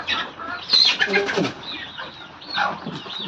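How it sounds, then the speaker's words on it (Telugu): A country chicken being caught flaps its wings in frantic bursts, with a few short clucks and squawks as it struggles close by. "ఒక కోడిని పడుతున్నా"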